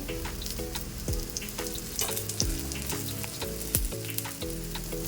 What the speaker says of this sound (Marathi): कटलेट पॅनमध्ये लावून घेतल्यानंतर त्याच्यावरून आपण तेल सोडून घ्यायचे